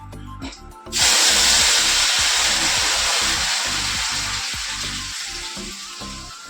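Dried red chillies and whole spices hit hot oil to temper dal, setting off a sudden loud sizzle that holds strong and then slowly fades, close up with no talking.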